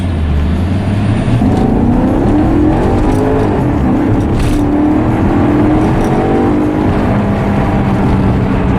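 A Maserati GranTurismo accelerates through city streets, its engine a loud, steady, rising roar that holds throughout with no talking.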